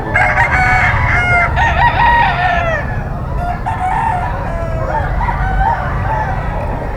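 A brass back bull stag gamefowl rooster crows loudly and close by, with drawn-out calls over a dense background of other fowl clucking and crowing at a market.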